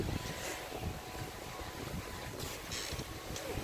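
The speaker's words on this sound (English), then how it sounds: "It's very windy." Faint wind gusts outdoors make a soft, continuous rushing and buffeting noise against the microphone, with occasional brighter flurries and no speech.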